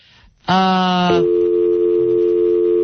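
A telephone dial tone in a radio studio, a loud steady hum that starts abruptly after a short pause and holds to the end, with a brief shift in pitch partway through.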